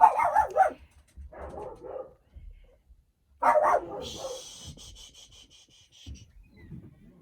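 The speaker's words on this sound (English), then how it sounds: "then I have dogs barking" Dogs bark in a few separate bursts, fairly close, with quieter scuffing and rubbing noises in the gaps between barks.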